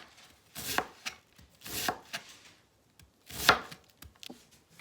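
A knife chops through white cabbage for coleslaw in a few sharp, crunchy strokes, three loud ones spaced about a second apart and fainter cuts between, with no talking.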